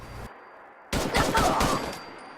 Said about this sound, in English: Here's full auto again. Has excellent damage, but as you can see,